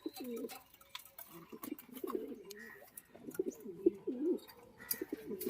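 Pigeons in the female section of a breeding loft coo softly and repeatedly from close by, low rolling calls over a quiet background with faint rustles and a little distant talk.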